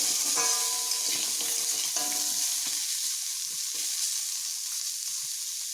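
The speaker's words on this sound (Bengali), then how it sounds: "কুমড়োগুলোকে আর একটু ভালোভাবে ভেজে নিতে হবে।" Pumpkin pieces fry in a pan with a soft, steady sizzle and a few scraping stirs, fairly close and alone, with a faint background tone early on that fades out.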